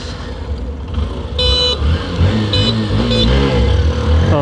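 A Honda Activa 125 BS6 scooter and a Hero Passion Pro BS6 motorcycle idle and rev at the start of a drag race, with steady engine drone, rising revs and short horn-like toots.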